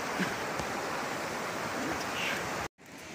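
Steady rushing flow of the Pagalaw River during a night river crossing near Mount Mariglem, a dense continuous wash of water close by that briefly cuts out near the end.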